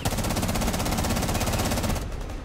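Sustained automatic FAMAS rifle fire in the Rainbow Six Siege video game, a loud, rapid, unbroken burst of shots lasting about two seconds before cutting off into fading echo.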